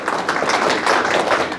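An audience at a lecture hall talk applauds, a dense, steady wash of many hands clapping at once, continuous and fairly loud throughout.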